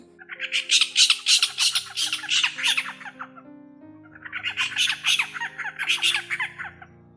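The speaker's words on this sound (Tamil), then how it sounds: "ஆந்தை அலரும்" Harsh, raspy owl screeches come in two long bursts of rapid, grating calls, loud and close with a short gap between them, no voices over them.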